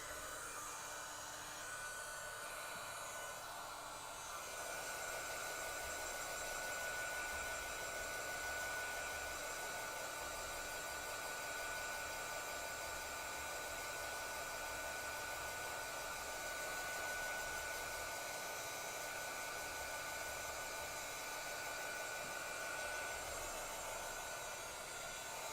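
A heat tool blows over a handmade card, a steady, close whooshing hum that rises slightly after a few seconds and stays constant, with no talking.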